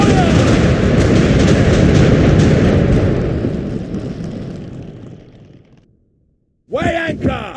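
A ship of the line fires its cannons at a city, producing a loud, sustained roaring rumble that slowly fades away. A shouted voice follows near the end.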